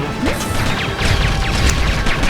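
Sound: bomb explosion in video game

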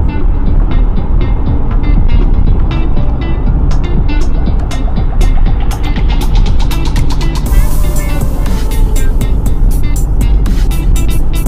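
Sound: car driving on a Bangkok expressway

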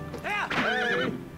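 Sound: horse Epona neighing, Zelda: Twilight Princess video game

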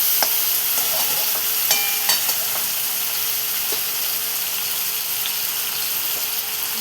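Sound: sautéing soaked moong dal and onion in pan

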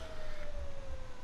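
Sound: police siren in video game

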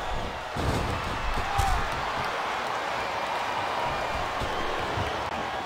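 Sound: wrestling crowd reacting in WWE Smackdown vs Raw 2007 video game

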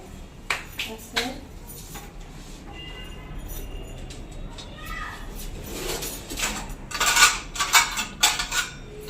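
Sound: plates and spoons clattering while serving a meal

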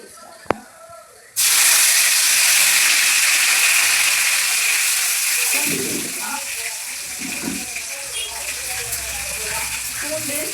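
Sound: curry leaves, onion and garlic sizzling in hot oil

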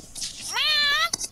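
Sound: person imitating a cat meow

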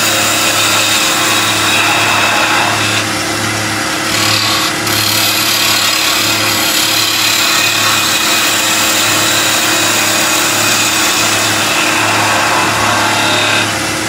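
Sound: wood lathe turning with a skew chisel

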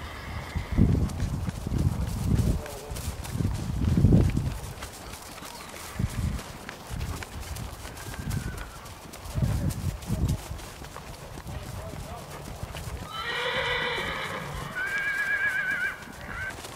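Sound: Peruvian horse neighing and hooves

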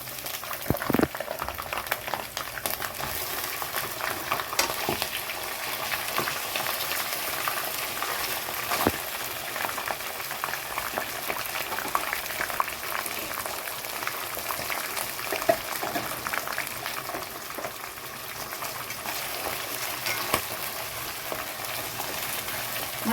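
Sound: liver frying in hot oil with browned onions

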